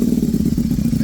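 A Ducati Panigale V4 S fitted with an Akrapovic exhaust rumbles loudly and steadily up close, a deep pulsing engine note that holds even for the short moment without any talk.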